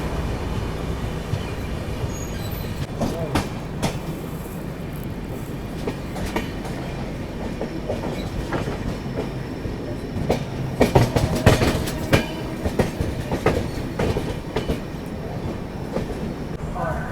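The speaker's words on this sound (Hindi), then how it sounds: "अभी देखो अपनी ट्रेन पहुंच रही है कानपुर सेंट्रल" The Vikramshila Express rolls toward Kanpur Central in a steady, loud rumble of wheels on rails, with rhythmic clickety-clack and rattling carriage noise that swells slightly toward the end.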